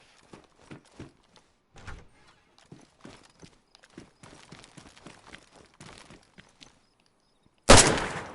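A door slams shut in the DayZ video game on the Livonia map, one loud, abrupt impact near the end, following a run of soft clicks and footstep-like taps.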